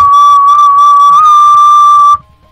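A voice imitates a whistling tea kettle coming to the boil, holding one loud, steady, pure whistle for about two seconds before it cuts off abruptly into near silence.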